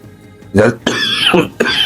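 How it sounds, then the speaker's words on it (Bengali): A person with a hoarse, cold-affected throat gives a few short, harsh coughs and throat-clearing bursts close to the microphone, loud and abrupt in quick succession. "যার জন্য মাঝে মাঝে কাশি আসছে আমি সামলাতে পারছি না"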